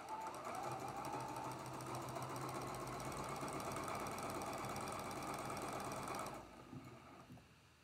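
A sewing machine runs steadily while stitching a traditional quilt block, a continuous dense mechanical whir that holds for about six seconds before cutting off, leaving a quieter room with a few faint thumps.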